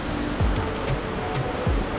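Steady rushing waterfall roars continuously on Réunion Island, a broad wash of falling water close by with no voices.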